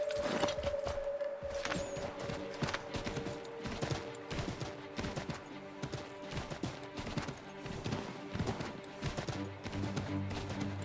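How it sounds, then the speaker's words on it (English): Horse hooves clip-clop steadily in Assassin's Creed III, a quick repeated beat of close footfalls running through the whole stretch over a low in-game music and ambience bed, with a brief voice near the start. "Take my horse! Bring him here!"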